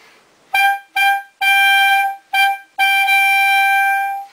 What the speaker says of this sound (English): The Gs sound like this.